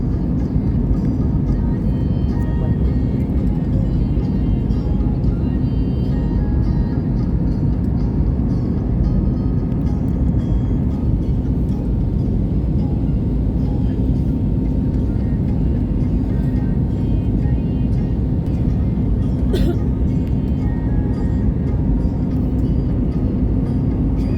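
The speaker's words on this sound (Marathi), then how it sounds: "लवकरच विमानतळावर आपलं विमान उतरणार आहे" Loud, steady low-pitched engine drone fills an airliner cabin during landing descent on a Leh to Delhi flight, unbroken throughout, with a brief faint click near the end.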